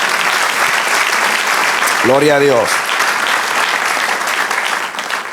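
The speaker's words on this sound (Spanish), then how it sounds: "Den un aplauso al Señor." A church congregation applauds steadily and loudly, the clapping filling the whole stretch, while a voice briefly calls out over it midway and the applause fades slightly at the end.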